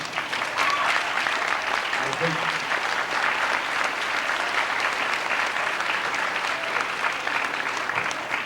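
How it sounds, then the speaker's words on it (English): Students give teachers a sustained round of applause at a 1993 Randolph Center Grove School and Intermediate graduation, a dense, steady wash of many hands clapping that fills the hall for the whole stretch. "I want to thank you students for self-initiating that applause."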